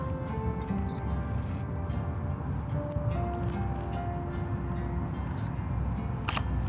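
Camera shutter clicks during timed street photography, a few sharp isolated clicks, one near the start, one midway and one near the end, over steady outdoor street noise.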